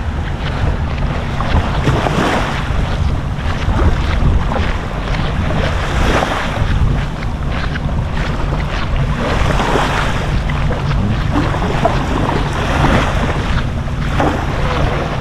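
A motorized outrigger boat (bangka) motoring on open water off Boracay, with steady wind buffeting the microphone and waves washing continuously throughout.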